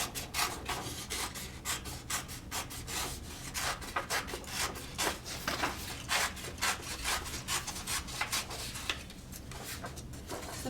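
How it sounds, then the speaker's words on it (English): Scissors cutting a shape out of paper, a steady series of crisp snips and rustling slices close up and quiet, running on without speech. "So I'm going to cut out my general shape that I want."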